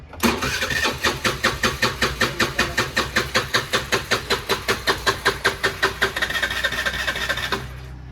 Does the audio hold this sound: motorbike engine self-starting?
yes